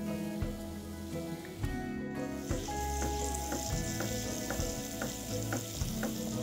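Whisked yogurt hits onions and spices frying in oil on a lowered flame, a close, steady sizzle punctuated by clinks and scraping strokes of stirring, with no talking.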